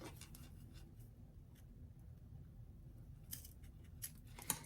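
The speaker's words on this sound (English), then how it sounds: "we're just going to trim the zipper off right level with the top of the dress" Scissors snip through a zipper to trim it level with the top of a sewn doll dress. Crisp, close cutting clicks come at the start and in several sharp bursts near the end, with quiet handling between.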